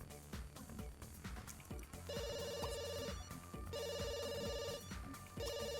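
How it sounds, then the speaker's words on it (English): A telephone ringing in The Sims 2, repeating electronic ring bursts separated by short gaps, heard over a busy layer of game music and clicky in-game sounds, fairly quiet overall. "answer the damn phone"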